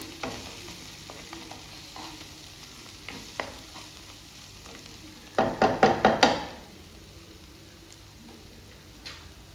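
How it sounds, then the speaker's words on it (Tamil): Quiet stirring and scraping of onions, tomatoes, chopped coriander and ginger-garlic paste sautéing in a pan, then a short burst of several quick metallic clanks near the middle, over a faint background hiss. "வெங்காயம், தக்காளி, பொடியாக நறுக்குன கொத்தமல்லி, இஞ்சி பூண்டு பேஸ்ட்டு இது நல்லா வதங்கட்டும்."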